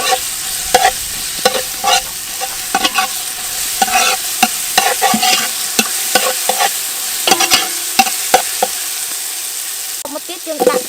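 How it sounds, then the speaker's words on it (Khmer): Pounded chili frying in oil in a village cooking pot, stirred steadily until crisp: a low continuous sizzle broken by repeated sharp scraping strokes of a utensil against the pot, close and fairly loud, with no talking. "ម្ទេសដែលយើងបានបុកហើយហ្នឹងយើងលីងវាឲ្យក្រៀមសិនណា"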